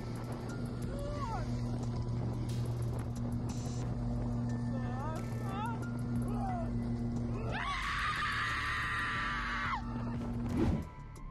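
A boat motors through grizzly bear territory with a steady low engine drone throughout. Bird calls and a loud, harsh animal cry from about eight to ten seconds sit over the drone.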